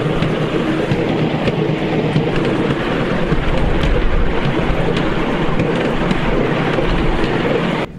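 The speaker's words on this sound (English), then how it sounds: "I'm going to go on the miniature railway." Miniature railway ride at a harbour festival, heard from aboard: a steady, loud rumble of wheels and running noise with wind buffeting the microphone, continuous throughout before cutting off at the end.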